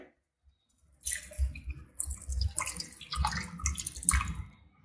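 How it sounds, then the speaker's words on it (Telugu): Water being poured into a pot of mutton and chana dal curry, starting after a quiet moment and continuing as a series of close, splashing, gurgling pours. "ఇప్పుడు మనం చక్కగా ముక్క ములిగేలాగా వాటర్ యాడ్ చేసుకోండి."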